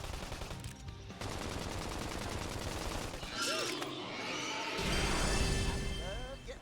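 Rapid gunfire from Xenoblade Chronicles X, loud bursts running through most of the stretch amid game music and effects, with a voice talking over it.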